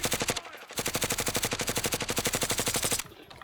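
A player fires an automatic weapon in a video game: a rapid, evenly spaced stream of loud shots runs for about three seconds, with a brief gap near the start and a quiet tail after the burst ends.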